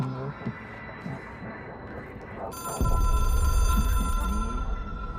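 An electronic telephone rings inside the video game Control, its steady tonal warble entering midway and holding loud and near over low rumbling game ambience, after a stretch of earlier talk.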